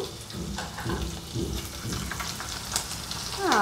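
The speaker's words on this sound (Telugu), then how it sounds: "ముందుగా అల్లం ముక్కలు వేసుకుని ఒక్క హాఫ్ మినిట్ అల్లం ముక్కలు వేగిన తర్వాత మనము పచ్చిమిర్చి కూడా వేసుకుందాము" Ginger pieces and green chillies fry in hot oil for a semolina upma, giving a soft, steady sizzle and crackle with faint scraping, and a brighter burst of hissing near the end.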